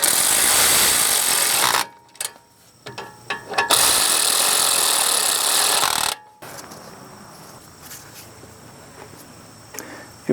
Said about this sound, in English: Tighten it down.